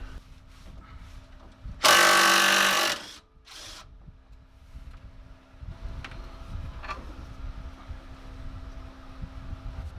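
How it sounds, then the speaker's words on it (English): Hand tools work on the 14mm fastener of a sway bar end link on an Infiniti G35. A loud burst of about a second, likely a power tool, is followed by a shorter one and then quieter clicks and scraping. "So we're gonna first start off by removing the sway bar end link."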